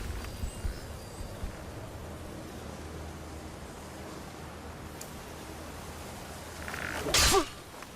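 A character in the video game Skyrim gives a single short, sharp sneeze near the end, following a long stretch of quiet, hissy ambience.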